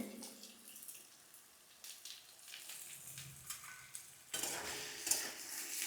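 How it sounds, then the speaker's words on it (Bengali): Beetroot and carrot being stirred in a pan, with a soft scraping rhythm and light sizzle that grows louder and brighter toward the end, with no talk over it. "গাজরটা দিয়ে এটাকে একটু নাড়াচাড়া করবো"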